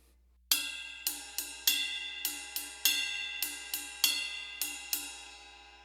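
A drum kit ride cymbal plays a songo groove variation: a syncopated pattern of ringing metallic strikes with long decaying shimmer, clear and close, each hit standing alone with no talking.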